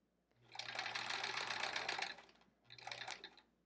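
A sewing machine stitches quilt pieces at a scant quarter-inch seam, running in a loud, steady close whir for about two seconds, pausing briefly, then sewing again in a shorter burst.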